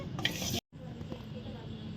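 Soft stirring and a light sizzle as mung dal is lightly dry-fried in a pan, a brief scrape, then a gentle frying hiss that carries on quietly.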